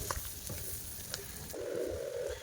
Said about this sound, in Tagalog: Lagay na din natin tong sibuyas.